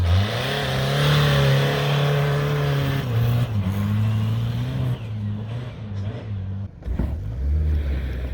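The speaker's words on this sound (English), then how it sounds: "Do a skid!" A Peugeot 406 revs hard during a skid, its engine loud and close with a droning tone that rises and falls, while voices talk over it.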